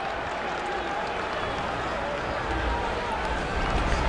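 A sold-out crowd at Memorial Stadium in Lincoln during a Texas Tech at Nebraska college football game, a continuous broad roar of many voices that swells slightly toward the end, with commentary under it.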